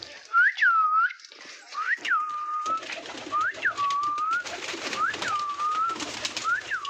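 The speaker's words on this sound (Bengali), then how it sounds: "দেখো অনেকগুলো পায়রা হয়ে গেছে কিছুদিনের মধ্যে।" Pigeons in a loft give a run of about five clear, rising-and-falling whistling coos at a steady pace. They sound close and fairly loud over a soft background rustle, and no one speaks.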